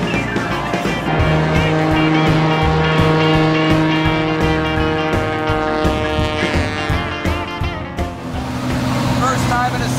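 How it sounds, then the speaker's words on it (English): A loud, steady seaplane engine drones with a strong humming whine that shifts in pitch slightly, heard close up from inside the cabin. "First time in a seaplane."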